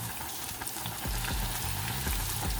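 Battered fish frying in hot oil for fish and chips, a steady close crackling sizzle with a louder burst of bubbling partway through as the pieces go in, no talking.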